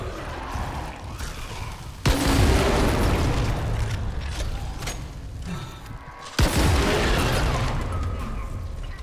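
Heavy weapon shots from the video game Dead Space remake, two loud booming blasts each followed by a rumbling decay amid game ambience and mechanical noise.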